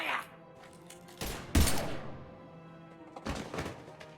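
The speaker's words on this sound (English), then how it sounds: "Now open fire!" Sci-fi gunfire in Mass Effect Legendary Edition, a few heavy thumping blasts and bursts with a sharp impact near the middle, spaced apart over quiet game ambience.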